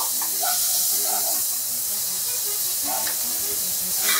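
Cajun trinity vegetables hit a dark gumbo roux and sizzle with a steady, loud steamy hiss, while voices murmur faintly in the background.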